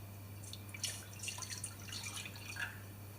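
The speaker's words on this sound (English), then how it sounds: "now I'm just going to warm up this pan. And what I'm going to do is put in this pan some full cream milk" Full cream milk is poured into a warming pan for béchamel sauce, making faint, soft liquid splashes and drips for a few seconds over a low steady hum.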